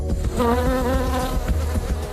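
Bees buzz close by, a dense droning hum with wavering pitch as several insects fly around, continuous and fairly loud.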